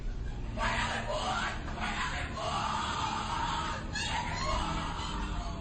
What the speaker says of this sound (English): What you're hearing is the first recording ever made of the Skull and Bones initiation ceremony.